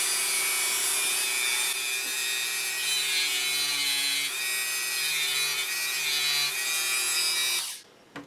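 A rotary tool whines steadily as it saws a notch into wood for a mini arrow, a continuous high buzzing grind close up that cuts off abruptly near the end.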